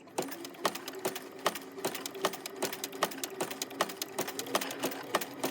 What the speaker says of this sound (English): put down your presser foot, hang on to your 2 threads. You're going to back stitch.